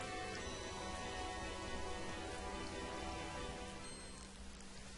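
Steady rain falling in a continuous, even hiss of drops on surfaces, fairly loud and unbroken, with no voices.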